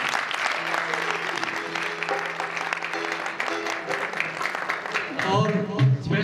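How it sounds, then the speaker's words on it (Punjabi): Audience applause at a singer's video album launching event at Alhamra Arts Council in Lahore, steady clapping from a crowd over music throughout, swelling louder near the end. "ਇਸ ਲਈ ਉਹਨਾਂ ਲਈ ਵੀ ਤਾਲੀਆਂ ਜਨਾਬ"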